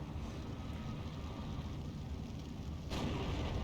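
Steel Division II video game battle with an M10 tank destroyer firing on a T-34: a constant rumbling wash of distant gunfire and engine noise, with a louder burst near the end, no talking.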